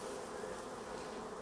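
Honey bees at an open hive during an inspection give off a dense, continuous close buzz, steady and even throughout the short stretch.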